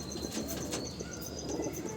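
Domestic pigeons near their young coo softly and flap their wings close by, with a low murmuring coo and brief flutters over a steady background hum.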